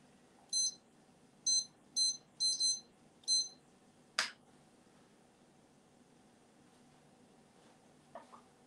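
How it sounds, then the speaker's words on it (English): A kitchen timer is set while pasta cooks, giving a series of short high electronic beeps in quick bursts followed by a single sharp click, then quiet room tone with a faint tap at the end. "I am going to set a timer."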